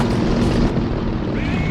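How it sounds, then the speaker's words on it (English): An Il-2 or Il-10 ground-attack aircraft passes in the tank combat game War Thunder, giving a brief, loud, steady engine drone with a thin rising whine near the end. "That's an enemy aircraft."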